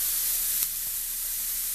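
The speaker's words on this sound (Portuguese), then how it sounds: "Vamos deixar esse bacon fritar até ficar bem torradinho." A steady, dense sizzle of bacon frying in a pan, constant and close, with one brief crackle early on.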